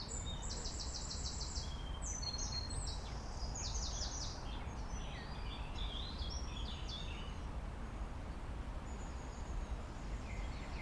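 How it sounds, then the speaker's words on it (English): Birds chirp and trill in short bursts in Stanley Park over a steady low background rumble, busiest early on and then thinning to occasional calls. "it's amazing just listening to the sound of the birds."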